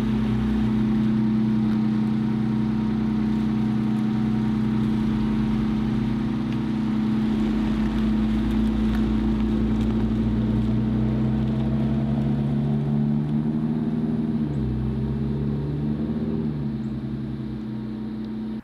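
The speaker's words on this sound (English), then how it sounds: "He did take the car out around the block, did some hard acceleration" A Ford Explorer with an underperforming transmission drives under hard acceleration, giving a loud, sustained engine drone whose pitch climbs and drops as the gears shift.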